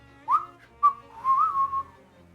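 A hobo in the Shadows Over Loathing video game whistles a short jaunty tune, a few clear bright notes rising and sliding, heard close and alone.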